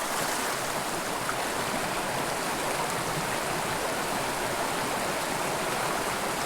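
A small creek flows in a continuous, even rush of water, steady broadband babbling with no breaks, close and fairly loud, and no voices.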